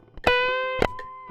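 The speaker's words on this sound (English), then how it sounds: "The only ones I haven't done are the pinch harmonics you do like this." Squealing pinch harmonics from a distorted electric guitar ring out in two sharp attacks, each followed by a sustained, bright overtone-rich tone that slowly fades.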